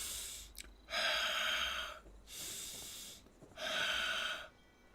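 Heavy breathing from a man playing Fallout 76 on a stream: three long, loud exhaled breaths in a steady rhythm, close to the microphone, with short quiet gaps between them and no talk.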